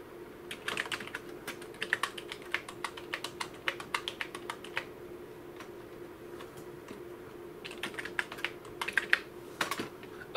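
Quick clattering keystrokes on a computer keyboard enter a command for an industrial PLC, coming in two bursts of rapid typing with a quieter stretch between them.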